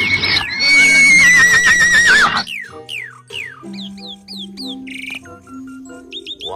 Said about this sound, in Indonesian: ini hewan kuda